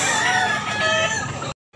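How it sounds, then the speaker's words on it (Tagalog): A handsome gamecock priced at 2,500 crows loud and close in one sustained call that cuts off abruptly near the end. "Napakagwapong manok."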